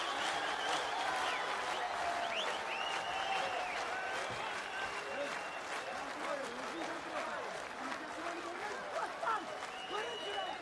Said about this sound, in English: So the crowd really responding well to this one.